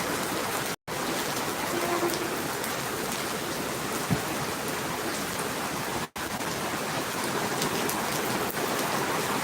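Continuous rain falls outdoors while someone is stuck out in the downpour, a moderate steady hiss of drops broken by two brief dropouts, with no talking.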